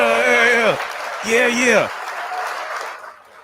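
Studio audience applauding on an interview show, a brief burst of clapping under loud cheering voices and a speaker, then fading quickly into the room.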